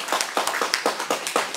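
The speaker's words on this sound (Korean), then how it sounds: "이때 박수 한번 쳐야죠." Audience applause at a lecture hall gathering on reunification, a quick run of rhythmic, evenly spaced claps, fairly close and bright, with no talking over it.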